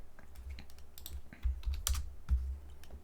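Typing on a computer keyboard while writing Go code: quiet, irregular key clicks in quick bursts, with a few louder taps and short pauses between words.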